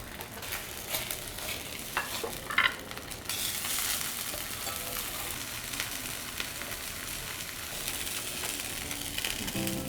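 A flounder fillet sizzles steadily in a hot pan, with a constant bright crackle of frying and a few louder spits and scraping stirs partway through, no voices over it.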